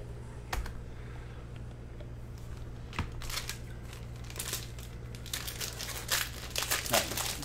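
Cello wrapping on a pack of 2019-20 Panini Mosaic basketball cards is torn open up close, making dense crinkling and crackling that builds over several seconds, with a low steady hum underneath.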